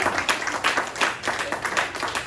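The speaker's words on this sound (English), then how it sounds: "somebody give a hand clap for that" Audience in a church clapping hands together, a dense, steady patter of many hands with slight surges, fairly close and filling the space without any talk over it.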